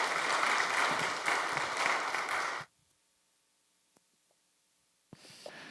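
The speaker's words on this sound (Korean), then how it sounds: "박수로 맞이해 주시면 좋겠습니다." Church congregation applause welcoming a preacher, a dense burst of clapping that stops abruptly halfway, followed by near silence and then a brief resumption of sound at the end.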